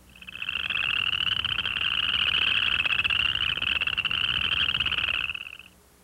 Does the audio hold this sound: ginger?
no